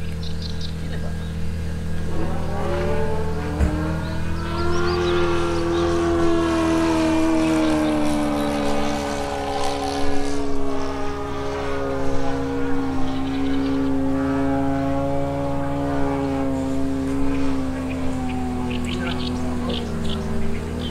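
A Super Skybolt radio-controlled model airplane with a propeller engine drones loudly and continuously. Its pitch rises and falls as it flies nearby, and faint voices are heard now and then.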